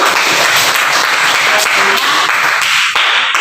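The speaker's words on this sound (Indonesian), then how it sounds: "Tepuk tangan untuk dia." Classroom applause for a student, a group of students clapping together in a dense, loud burst lasting a few seconds.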